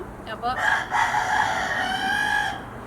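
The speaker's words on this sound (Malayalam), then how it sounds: "ഈ കോഴി ഉണ്ടല്ലോ, അങ്ങനെ പുറത്ത് നമ്മളെ നിൽക്കുമ്പോഴാണ് ഇതിന് കൂവൽ കൂടുതൽ" A rooster crowing outdoors, a single long, loud crow close by, with a person briefly speaking at the start.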